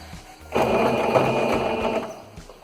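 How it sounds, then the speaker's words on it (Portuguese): A sewing machine stitches an invisible zipper with a steady, close mechanical whir, running for about a second and a half after a quiet start, then stopping. "E a gente vai estar costurando ali bem rente os nossos dentinhos"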